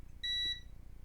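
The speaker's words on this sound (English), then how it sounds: "you put on the continuity, or you put them on the buzzer sound" Multimeter in continuity mode on a DVD laser diode's pins gives a single short, high electronic beep of about a third of a second, clear and close over a faint low hum.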